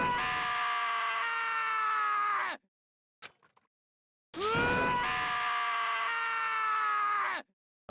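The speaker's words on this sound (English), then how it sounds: "As Taka's sad screams invaded our skulls" A character in the Danganronpa video game screams during an execution scene, two long, loud, sustained anguished wails separated by a brief silence with a faint click.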